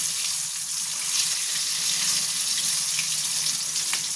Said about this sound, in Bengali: আমি অল্প অল্প দিয়ে ভাজছি, কারণ ভেঙে যাওয়ার ভয় থাকে